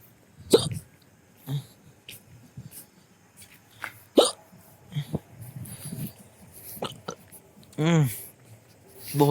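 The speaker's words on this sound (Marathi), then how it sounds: "हुसकी लागली यार." A man hiccups several times at irregular intervals, sharp and close, with breathing and small mouth sounds between them while he is in Wardha, Maharashtra.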